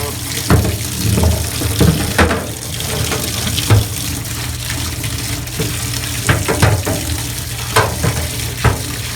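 Water rushes steadily and loudly through the drain of a Federal SSRC3652 open refrigerated bakery case during a wash-down, with splashing and occasional knocks throughout.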